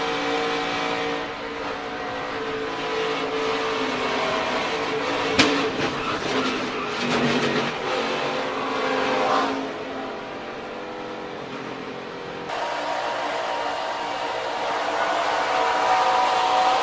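2021 NASCAR Truck Series race truck engine roaring onboard, a loud continuous rasp with a sharp bang, fluctuating revs and a sudden drop in intensity near the end.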